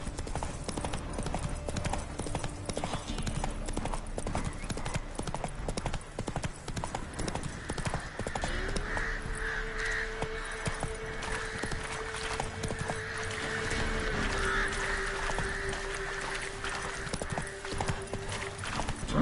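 Geralt's horse Roach gallops steadily through The Witcher 3, a continuous clatter of hooves over a 19-second ride, with a brief whinny and a sustained tonal game sound layered in the middle.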